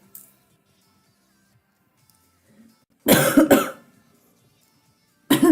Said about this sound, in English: I almost had a coughing fit.